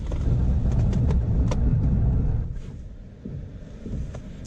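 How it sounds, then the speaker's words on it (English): A Toyota Rush brakes hard from highway speed of about 80: steady low road and wind rumble that falls away abruptly partway through, leaving quieter, uneven tyre and cabin noise. "we're going to slam on the brakes to see how it performs"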